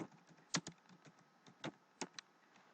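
Keys clack on a computer keyboard in short irregular bursts, a few sharper taps standing out among softer presses, quiet and close with no talking.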